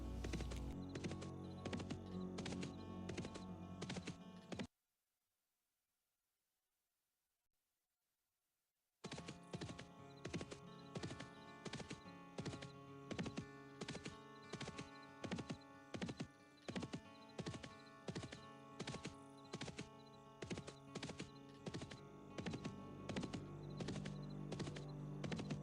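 Horse hooves clip-clop in a steady, even rhythm while riding in the online role-playing game Dark Age of Camelot, loud and close with no talk, breaking off into silence for a few seconds before resuming.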